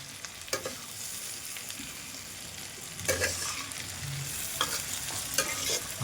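Maize kernels fry in hot oil for Gujarati makai vagharelu, giving a steady close sizzle. Scraping stir strokes cut through it at intervals.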